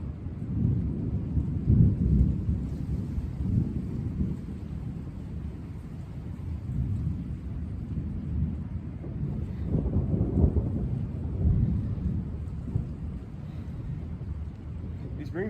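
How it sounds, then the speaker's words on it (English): Low rumbling thunder rolling in waves over steady rain, deep and heavy at moments around the start and middle, with wind noise on the microphone throughout. "Oh man, the rain's picking up."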